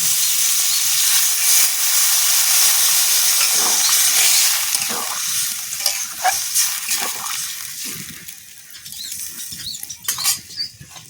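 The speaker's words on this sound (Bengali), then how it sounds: "এবারে দিয়ে দেবো জল।" Water poured into a hot pan of fried potato and cauliflower curry, a loud, close burst of hissing and sizzling that slowly settles into softer bubbling and spitting.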